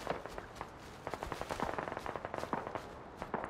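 Automatic gunfire in the military shooter SquadOps crackles in rapid, irregular bursts of sharp shots, moderately distant and fairly faint, with several volleys overlapping through the clip.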